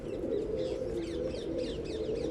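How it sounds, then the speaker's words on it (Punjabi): Pigeons coo in a low, continuous murmur, several birds overlapping close by, with faint higher chirps above. "ਪਿੰਜਰੇ ਦੇ ਵਿੱਚ ਕਬੂਤਰ ਛੱਡ ਕੇ ਵਿਖਾ ਰਹੇ ਆ"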